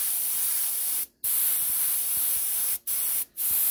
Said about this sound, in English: I'm just doing all this airbrushing as a fill-in really.